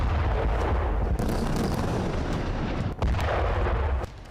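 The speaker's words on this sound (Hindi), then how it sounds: "रिहायशी इलाकों पर बमबारी की जा रही है।" Heavy, continuous rumbling booms of bombing on residential areas in Jabalia, Gaza, roll on without pause, with a brief dip before the blasts resume.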